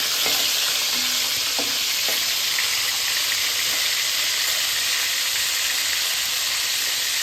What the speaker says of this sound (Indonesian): ini minyaknya sudah kita panaskan, waktunya kita goreng ikannya